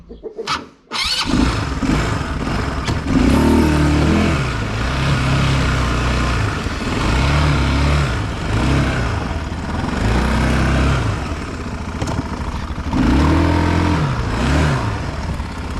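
An Ursus Zetor tractor engine runs steadily after a short start, a loud, close diesel chug with rhythmic swells in its low rumble, continuing without talk.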